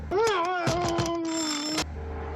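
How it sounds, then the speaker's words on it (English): A single electronic ringing tone with a warbling, rising-then-steady pitch, close and fairly loud, ending abruptly before a quiet hum. "It's ringing."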